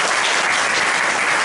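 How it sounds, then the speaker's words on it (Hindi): A church congregation at a Friday youth service claps loudly for Jesus, a dense, steady wash of applause filling the room without a break, with no talking over it. "एक बार जोरदार यीशु के लिए ताली बजाएंगे हम लोग।"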